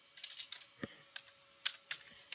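A computer keyboard clatters as a Linux terminal command is typed: a quick flurry of light key clicks, then sparser single taps with short pauses between them, close and fairly quiet.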